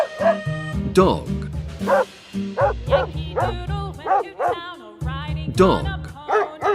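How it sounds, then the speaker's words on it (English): Several dogs bark and yip in quick repeated bursts, fairly close and loud, with some whimpering yelps mixed in over about seven seconds; no talking. "Dog."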